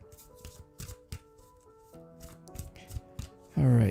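A deck of tarot cards is shuffled by hand at close range, giving a string of quick riffling flicks and taps. A loud, brief low thump closes the sequence.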